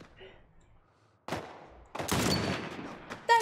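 Gunfire in The Last of Us Part I video game: after a quiet start, a sharp shot lands, then a dense burst of firing and a final loud crack, close and loud.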